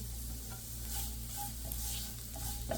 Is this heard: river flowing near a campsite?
no